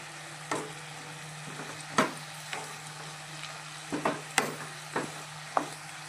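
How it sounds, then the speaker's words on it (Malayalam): Ginger paste and spices are stirred while frying in a pan, with a series of distinct scraping knocks of a spoon at irregular intervals over a faint steady hum. "എന്നിട്ട് നമ്മൾ ഇതൊന്ന് നന്നായി ഇളക്കി വിടാം"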